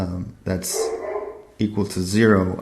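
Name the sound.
dogs barking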